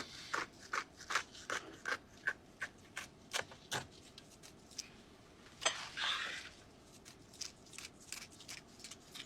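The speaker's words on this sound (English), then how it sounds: "You just take a pair of scissors and cut up that side." Repeated crisp snipping of scissors cutting along a flatfish's fins, a steady series of short cuts close by with a brief rustling pause midway, no voices.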